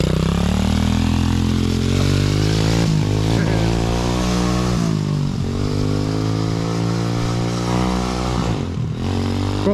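A Misaki LS400 pit bike with a welded part runs in first gear, its engine loud and close. The drone rises and dips through several revs, and people talk over it.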